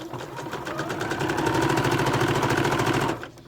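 A sewing machine stitches elastic onto a homemade fabric mask, its needle running in a fast, even mechanical chatter for about three seconds before stopping.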